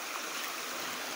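Steady broadband rushing of a river in flood after heavy rain in north-east Brazil, continuous and even, with no voices.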